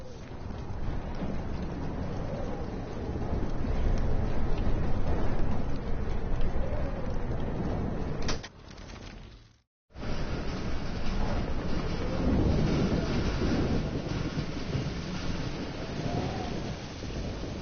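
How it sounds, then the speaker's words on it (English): Thunderstorm in the video game Life Is Strange, a loud continuous roar of heavy rain and rumbling thunder with a brief dip partway through, no voices over it. "Storms."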